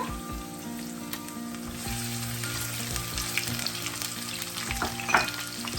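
Fennel seeds, green chillies and curry leaves frying in a pan for a Sri Lankan chicken liver fry, a steady close sizzle with stirring scrapes and a brief louder flare near the end, no talking.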